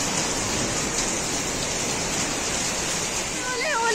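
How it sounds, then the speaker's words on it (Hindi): Heavy rain pours down in Dehradun as a dense, steady roar of falling water that fills the whole clip, loud and close, with no break in the downpour. "बारिश इतनी भयंकर हो रही है"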